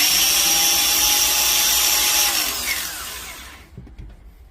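A repaired DeWalt angle grinder runs loud and steady with a high motor whine, then is switched off and winds down over its last second into near silence.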